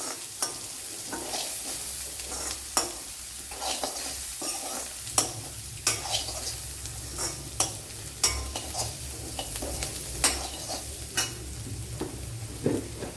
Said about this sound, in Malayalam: ഇപ്പോഴിവിടെ സവാളയൊക്കെ വഴണ്ട് വന്നിട്ടുണ്ട്